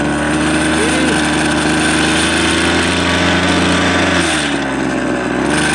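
A small petrol engine, freshly filled with petrol to flush it clean, runs loudly and close up with a steady buzzing drone that holds throughout and shifts in pitch near the end.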